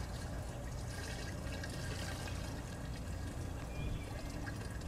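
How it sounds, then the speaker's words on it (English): Three gallons of waste vegetable oil pour steadily into a container for a small biodiesel batch, a continuous close liquid rush lasting throughout with no talking. "here's 3 gallons of waste veggie oil. I'm gonna dump this right in."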